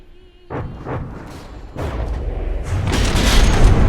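Naval gunfire in a warship battle game, as heavy shots boom one after another and build into a loud, rumbling volley with deep thuds.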